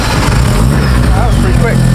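A Mazda RX7 FD two-rotor rotary engine rumbles loudly up close in a short burst, low and throbbing, with people talking over it.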